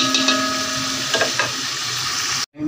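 Chopped onions fry in a pan over a village cooking fire on their way to golden, giving a steady close sizzle with a few soft stirring scrapes that breaks off abruptly near the end.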